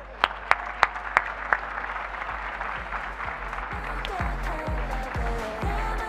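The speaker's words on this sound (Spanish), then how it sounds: "Un aplauso para recibirle." An audience at a Spanish conference applauds to welcome a speaker, a few sharp claps at first that swell into sustained clapping over low hum.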